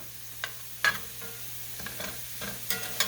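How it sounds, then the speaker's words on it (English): A spatula scrapes and taps through carrots in a frying pan for corned beef hash. A few sharp knocks ride over a quiet, low sizzle, and the whole sound stays faint. "So I'm just going to cut them in half here with my spatula."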